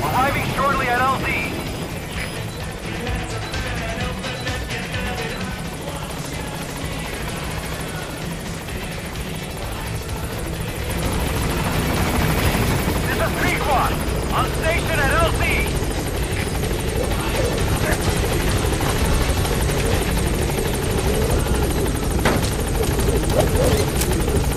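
Support helicopter from Metal Gear Solid V: The Phantom Pain arriving at a landing zone, a steady rotor roar that swells louder over the second half, with radio-style talk over it.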